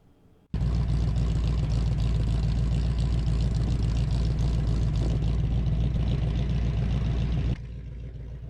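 A 1969 Chevy truck engine runs while warming up after a rebuild, a loud steady idle rumble that starts abruptly and holds evenly before dropping back to a quieter level near the end.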